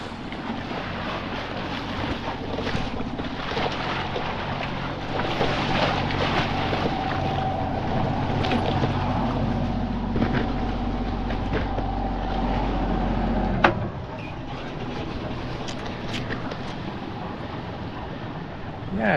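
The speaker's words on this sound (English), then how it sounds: "so I'm just going to slow the engine down" Sailboat's inboard engine droning steadily at low pitch under wind and water noise while crossing fast river current in muddy water, then easing off and dropping quieter near the end.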